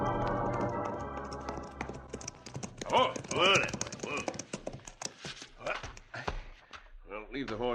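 Horses' hooves clip-clop through a 1953 Cisco Kid western radio drama, the steady hoofbeats mixed under voices and dramatic sound throughout.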